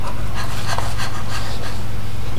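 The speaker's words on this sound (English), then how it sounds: "She still pants a lot like a dog." A baby pants rapidly like a dog, loud close breathy puffs repeating steadily throughout without a break.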